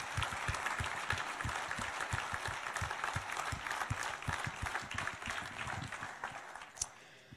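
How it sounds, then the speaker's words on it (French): An audience applauds at a New Year's greetings ceremony, a crisp, fairly quiet burst of many hands clapping in an even patter that thins out near the end. "Et on peut encore une fois l'applaudir, s'il vous plaît."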